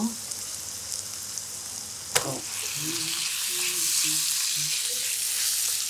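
Tomatoes go into a frying spice masala of cumin and turmeric in a pan: a steady hissing sizzle, one sharp hit as they land, then a louder, fuller sizzle with faint voices in the background.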